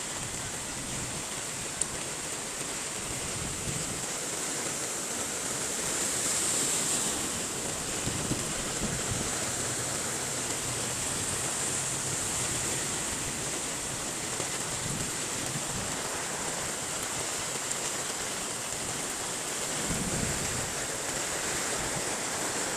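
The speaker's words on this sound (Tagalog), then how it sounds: "Malakas ang hawak ng tubig." Continuous rushing floodwater after heavy rain in Gonzaga, a broad steady roar of fast-flowing current with no pauses, moderately loud throughout.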